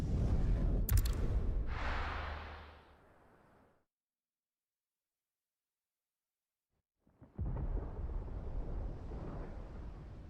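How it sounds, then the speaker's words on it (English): Thunder in the Final Fantasy XVI game: a loud, deep rumbling crash with a sharp crack that fades into silence, then a second heavy roll of rumble begins a few seconds later. "Sounds like thunder."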